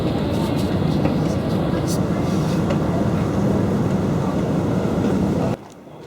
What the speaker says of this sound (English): Come on, let's get the train.